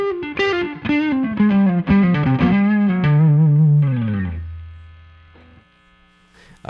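Electric guitar through a J-Rocket Archer Klon-clone overdrive pedal: a warm, lightly driven melodic run of sliding notes that settles into a sustained low note and fades, leaving faint hum, played alone.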